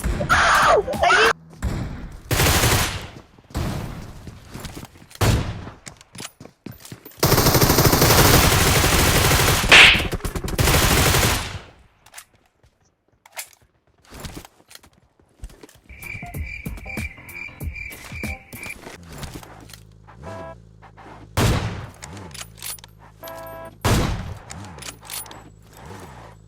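Gunfire in the mobile battle-royale game PUBG Mobile: bursts of rapid shots and single loud cracks, with a long blast of sustained fire in the middle, then scattered distant shots and game sounds later on.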